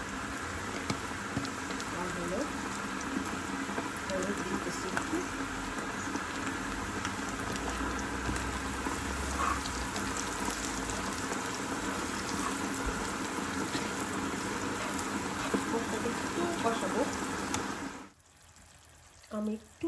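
Steady low bubbling and hissing of a dried fish curry simmering after water was added to scorching spices, continuous and close, cutting out near the end into quiet with a brief clatter.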